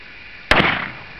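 A single sharp gunshot cracks loud and close at a beer can outdoors, with a quick secondary pop and a short fading echo, and no voices.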